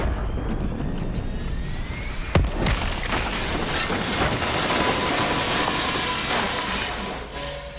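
An automated plane crash-lands and explodes in the Black Ops 3 zombies campaign, giving a loud, dense roar of crashing debris and rumbling blast with a sharp crack partway through, sustained throughout.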